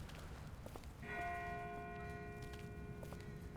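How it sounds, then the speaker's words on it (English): A distant bell rings out in The Walking Dead Telltale game, one clear struck tone with a long ringing decay, sounding faint and far off over a low rumbling ambient background. "That's not the same bell as before. This one's further off."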